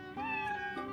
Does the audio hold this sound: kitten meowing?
yes